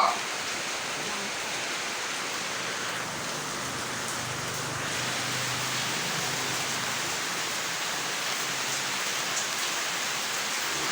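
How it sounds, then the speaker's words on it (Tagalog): Heavy rain pours steadily in Nueva Ecija, Philippines, during a tropical storm: a dense, constant broadband hiss of downpour drumming on surfaces, even and loud throughout with no break. "Lakas ng ulan."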